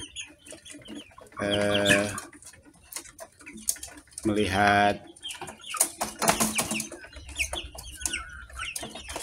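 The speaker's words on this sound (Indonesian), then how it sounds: "ayam-ayam ini bergembira ria ya" Free-range village chickens cluck and crow in loud bursts between stretches of someone talking, with farmyard bird calls scattered throughout.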